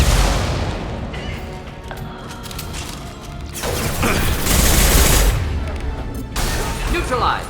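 Dense gunfire and booms from the video game Mass Effect 2 Legendary Edition, continuous loud bursts of shooting and impacts filling the scene, with voices occasionally underneath.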